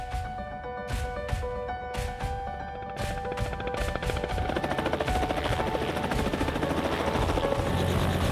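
A helicopter runs with a steady rotor thrum and whine that grows louder and fuller over several seconds, heard close up from on board.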